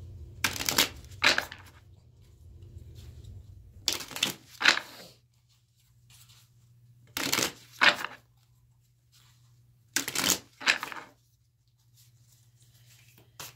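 Tarot cards are shuffled close up in four separate bursts of quick riffling flutters, each a second or two long, separated by near-silent pauses with a faint steady hum underneath.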